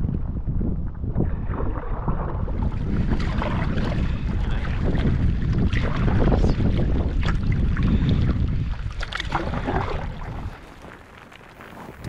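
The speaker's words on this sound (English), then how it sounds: "The wind blows hard here," Strong, gusty wind buffets the microphone while paddling a canoe on the Missouri River. A loud, continuous roar rises and falls across the clip, then eases briefly near the end.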